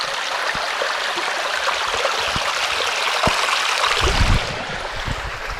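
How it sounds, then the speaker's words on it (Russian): Mountain streams flow through a rocky gorge in Dagestan, a steady close rushing and trickling of water with a few soft knocks and footsteps-like thumps toward the end. "Ручьи текут."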